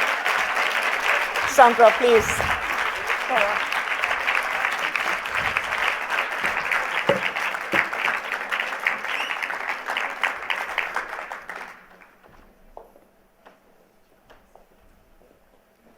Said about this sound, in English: give them a super great round of applause